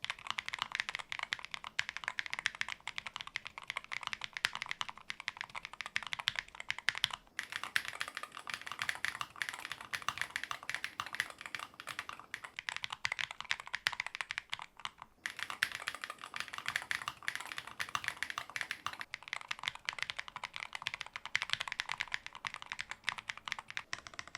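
Rapid, steady typing on a thin mechanical keyboard, with clacky keystrokes pattering continuously up close and a few brief pauses.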